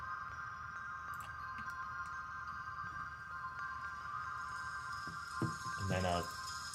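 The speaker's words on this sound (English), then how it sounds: "pitch shifted sound of uh, rain on an iron on like a metal plate" Pitch-shifted rain on a metal plate used as video game ambience: a faint, steady metallic hum with sparse ticks and a brief cluster of pattering hits near the end.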